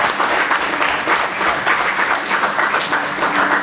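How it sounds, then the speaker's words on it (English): An audience in a room at a talk applauds with sustained, dense clapping that stays even and loud throughout. "give yourselves a big round of applause"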